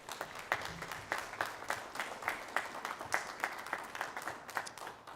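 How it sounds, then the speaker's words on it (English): Audience applause after a Christmas concert by a community band, a steady patter of many hands with brief accented bursts, moderately distant and continuous throughout. "Can we get a round of applause one more time for all those people?"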